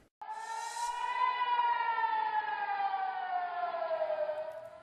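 A single air raid siren in Israel wails loud and steady during rocket fire from Gaza, its pitch slowly drifting down over several seconds.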